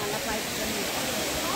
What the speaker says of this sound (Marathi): एक नंबर भाई धबधबा आहे